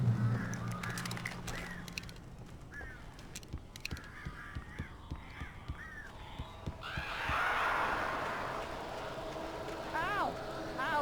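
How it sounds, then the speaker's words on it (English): Crows caw repeatedly in the Alan Wake video game, harsh calls scattered throughout over rustling and thumping game sounds, with a louder flurry of cawing near the end. "These birds are weird."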